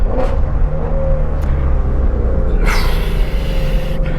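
A Ford Mustang Shelby, GT350R or GT500, rumbles with a deep steady engine drone and rises into a revving surge near the end, loud and close.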